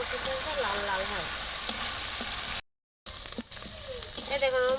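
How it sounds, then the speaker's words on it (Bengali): Spice masala for a rui fish curry sizzles and fries steadily in a pan as it is stirred, with a brief silent gap and a voice heard faintly at times. "নেড়ে চেড়ে মশলাটা ভালো করে কষাই নেবো যতক্ষণ না পর্যন্ত মশলাটা লাল লাল হয়।"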